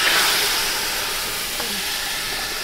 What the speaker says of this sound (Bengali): এবার আমরা এর ভিতরে গরম জলটা দিয়ে দেব।